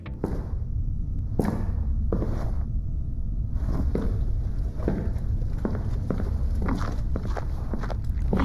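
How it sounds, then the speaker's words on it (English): Designed footsteps of a character walking with a backpack in The Last of Us land in a steady heel-to-toe rhythm, close and crisp over a constant low rumbling ambience. "With the footsteps, I focus on a combination of heel-to-toe movement and impact layered sounds."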